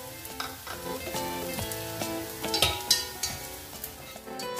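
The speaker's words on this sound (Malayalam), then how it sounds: "ഇത് നമുക്ക് ഗോൾഡൻ കളർ ആവുന്നത് വരെ ഒന്ന് വറുത്തെടുക്കണം" Grated coconut dry-roasts without oil in a pan, stirred with a utensil, giving a soft crackle with repeated scraping and clinks under background music.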